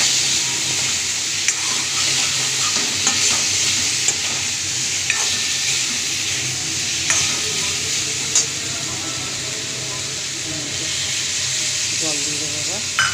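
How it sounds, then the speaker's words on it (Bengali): Potatoes with turmeric and salt sizzle steadily in a pan while a spoon stirs them now and then, the frying hiss continuous and fairly loud, with occasional light scrapes. "আলুটাকে কষতে দেবো কিছুক্ষণ।"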